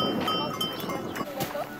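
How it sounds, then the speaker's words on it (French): Goats in a mountain valley at Bernau, with faint bleats scattered through a steady outdoor background and a voice murmuring nearby. "Les chèvres."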